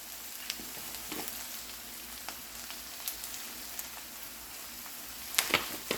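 Egg roll filling seasoned with onion powder, garlic powder and cumin sizzles steadily in a hot pan. A few sharp scrapes and clicks from the stirring spoon rise over the hiss, louder near the end.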